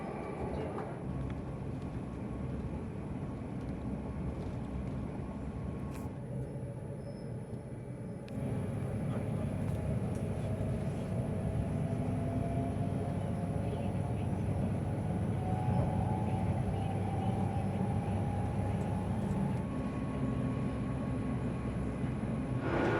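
A passenger train in Australia travels at speed, giving a steady, moderately loud rumble and wheel-on-rail roar that swells partway through and holds, with faint high whistling along the way.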